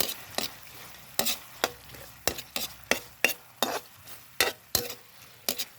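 A simple home-cooked dish is stirred in a frying pan, with about a dozen close, sharp spatula scrapes at an uneven pace over a low, steady sizzle. No one speaks.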